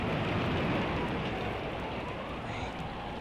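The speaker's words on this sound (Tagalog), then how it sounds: "At umuulan na naman." Steady rain pours at night while a typhoon lingers, its dense, even hiss filling the whole stretch close and constant with no break.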